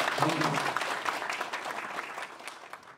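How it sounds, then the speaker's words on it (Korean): A forum audience applauds a vice minister, with dense steady clapping strongest at the start and slowly thinning out, plus a faint murmur of voices beneath. "여러분 다시 한번 박수 한번 쳐주시면 좋겠습니다."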